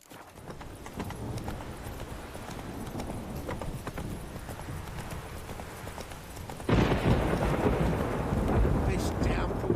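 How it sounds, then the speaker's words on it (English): Heavy rain pours steadily in The Witcher 3, a dense broadband wash that swells louder near the end, with a low rumble of thunder and horse hoofbeats clip-clopping underneath. "This downpour's a bastard"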